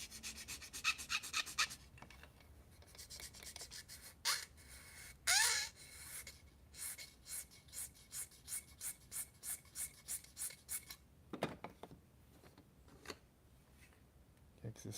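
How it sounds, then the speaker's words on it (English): Sandpaper rubbing on a thin styrene plastic center console for a Corvair, scratchy strokes coming in bursts and then a run of short, regular back-and-forth passes, fairly close but soft. "I need to sand a little right here."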